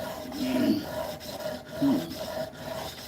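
An old masonry chisel, being reworked into a woodworking chisel, is rubbed on a 400 grit sharpening stone: close, gritty rasping strokes, two clear passes in a slow back-and-forth rhythm.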